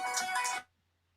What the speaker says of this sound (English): No, that's my phone.